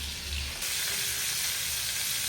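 Pointed gourd (potol) frying slowly in oil over low heat, a steady broadband sizzle that stays close and even throughout, with a faint low rumble and no voices.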